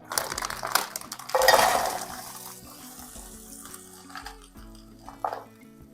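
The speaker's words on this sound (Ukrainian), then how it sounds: "Перемішую і просмажую буквально 3 хвилини." Scraping and clinking of a utensil stirring mixed vegetables frying in oil in a pan, with soft sizzling and irregular knocks, close by and no talking.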